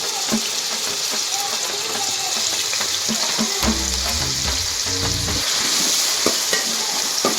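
Green beans stir-fry in a hot pan for fried rice, a loud steady sizzle with scraping and clattering stirring strokes and a brief low thud midway.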